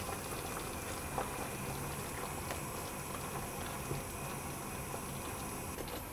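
Strawberry pie filling simmers in a pan on the heat, giving a continuous soft bubbling and popping with a steady liquid texture and no talking.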